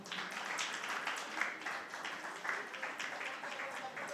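A church congregation at a Sunday worship service claps together, a fairly faint, steady patter of many hands that continues throughout with slight swells.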